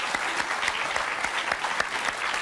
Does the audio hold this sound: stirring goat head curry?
no